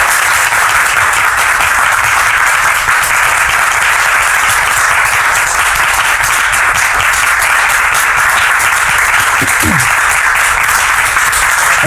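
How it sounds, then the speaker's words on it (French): A studio audience on a French television talk show applauds loudly and steadily for about twelve seconds as a guest is brought onto the set. The clapping stays dense and even throughout, with no voices over it. "On applaudit s'il vous plaît."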